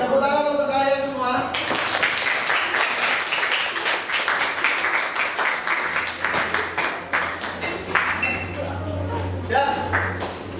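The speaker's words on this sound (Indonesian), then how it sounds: "tepuk tangan untuk kalian semua." Students in a classroom break into applause after a teacher's brief spoken remark, with many hands clapping densely and steadily for about nine seconds, and a few voices mixed in near the end.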